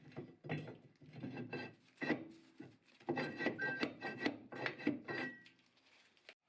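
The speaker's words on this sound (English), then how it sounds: "you can hear the grating noise of the bad bearing when I was spinning it" A worn rear wheel hub bearing on a Jeep Patriot, with a rusty brake drum, grinds and rasps as the hub is spun by hand, giving close, uneven scraping bursts with short pauses between spins.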